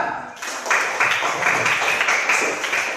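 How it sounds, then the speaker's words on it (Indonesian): A classroom of students clapping for a student group, a sustained patter of many hands that swells after a quiet start and holds steady to the end. "Beri tepuk tangan untuk kelompok 3"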